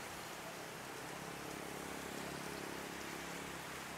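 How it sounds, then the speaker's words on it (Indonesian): Steady rain falls outside as an even, continuous hiss of drops on surfaces, uniform and moderately faint, with no talking. "Mohon maaf, di sini posisinya hujan."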